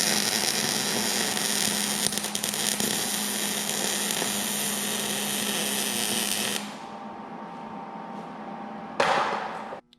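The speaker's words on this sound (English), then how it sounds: "there's our quick weld" A tab is welded onto a grade 8 oblong nut, a steady crackling buzz that runs for several seconds, then cuts out, leaving a quieter hum before a brief final burst.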